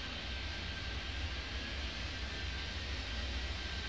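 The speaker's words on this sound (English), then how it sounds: "Look at all these planes queuing up for departure." Steady, dense jet engine roar from airplanes queued on a runway in the airport simulation game Airport Madness 3D, a constant even drone with no talking.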